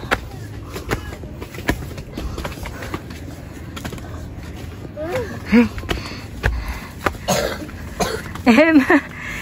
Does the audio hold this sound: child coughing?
yes